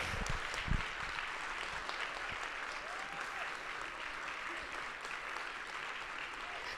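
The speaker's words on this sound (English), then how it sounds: "Please join me in giving a huge round of applause to Dr. Jessica Sullivan Brown." A TEDx audience at West Chester University breaks into sustained, even applause welcoming a speaker to the stage, a dense crowd of clapping continuing at a steady level throughout.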